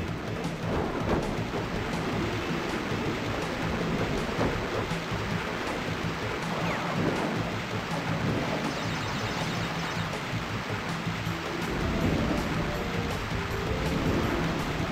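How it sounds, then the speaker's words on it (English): Heavy rain and rumbling thunder in the Crash Bandicoot 2 video game, a loud, continuous storm wash with surf-like roar filling the whole stretch, no voices over it. "Also, that rain is really loud."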